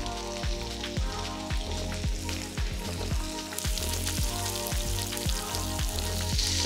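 A pasture-raised ribeye steak sizzling in a pan with butter, garlic and thyme, a loud continuous frying crackle broken by regular rhythmic spoon-basting splashes, close and with no voices.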